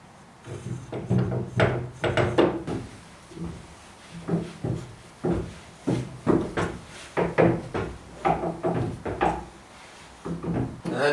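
A pipe being fed through a wooden shelf resting on planks in a woodworking shop, giving repeated knocks, scrapes and wooden clunks in irregular bursts, close and fairly loud, with no talking.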